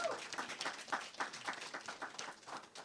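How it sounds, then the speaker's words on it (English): Audience clapping at a graduate awards ceremony, a faint, scattered patter of hands in irregular bursts that carries on throughout without any clear voices. "We applaud for them."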